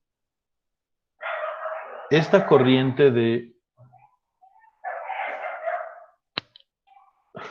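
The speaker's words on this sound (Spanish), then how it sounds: "Tropel de perros aquí, hermano." Dogs bark in a short burst of overlapping yelps and woofs, heard faintly in the background while someone speaks in Spanish over them.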